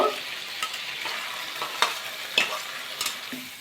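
Chana dal is stirred into fried spices and oil in a pan, making a low steady sizzle broken by intermittent scraping clicks from the spoon, close and without speech.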